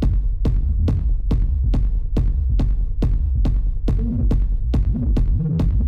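Heavy distorted kick drum thumps at a steady techno pulse, each hit trailing a deep, gritty low rumble that fills the gaps between beats.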